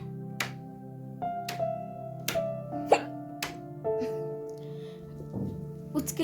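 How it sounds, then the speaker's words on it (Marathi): A person hiccups about six times at uneven intervals, each one a sharp, short catch that stands out over a steady tonal hum in the background. "उचकी लागली, कोण आठवण काढते"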